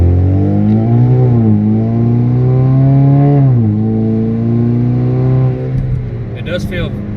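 A 4-cylinder turbocharged Camaro with an automatic transmission, running on E85 with raised boost, accelerates hard. Its loud, close engine note climbs in pitch, drops at the shifts, then climbs again before easing off.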